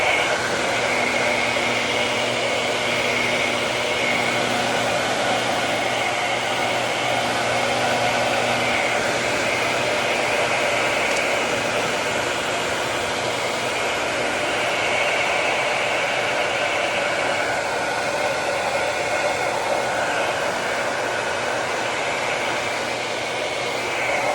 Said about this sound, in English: I've warmed the heat gun up, so it's warm already.